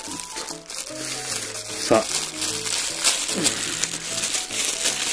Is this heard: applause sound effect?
no